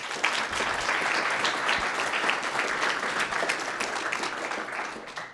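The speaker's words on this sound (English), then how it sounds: "how about a round of applause for these 2 gentlemen up here?" Audience applause at a Scout troop's 100th anniversary celebration in Des Moines, dense and steady clapping from a sizeable crowd sustained for the full five seconds.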